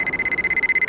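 Rapid electronic beeping pulses from a wire tracer probe, about sixteen evenly spaced high-pitched chirps in under a second, steady and fairly loud.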